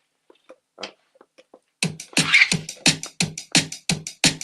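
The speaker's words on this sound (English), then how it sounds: "if I played house at drum and bass tempo," A fast, driving house beat played at drum and bass tempo, with punchy kicks and crisp hits in quick succession, loud and up close, following a few sparse soft clicks.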